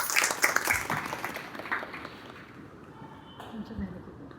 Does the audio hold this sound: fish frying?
no